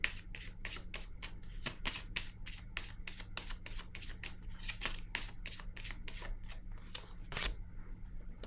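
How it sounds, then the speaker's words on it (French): Tarot cards handled over a deck, giving a steady run of crisp, rapid snaps and riffling flicks that continue for several seconds, close and fairly quiet with no talking. "Je vais déposer une carte ici."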